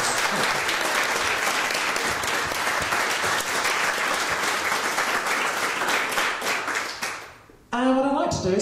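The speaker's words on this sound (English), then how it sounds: "So can we just give them all a big round of applause?" Audience at a women-in-business Q&A event applauding the speakers, a dense, loud and sustained clapping that fades near the end before a voice begins talking.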